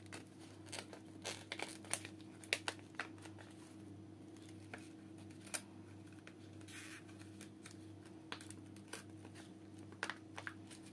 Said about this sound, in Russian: Открываю просто пакетик.